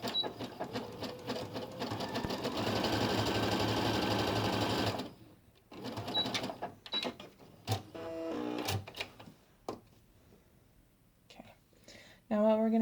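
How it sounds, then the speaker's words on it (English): A sewing machine runs in a steady burst for about five seconds as it stitches through two layers of fabric seam allowance, then stops, followed by quieter handling sounds and brief taps. "we're going to be sewing right here between the 2 lines, only through those 2 layers of seam allowance"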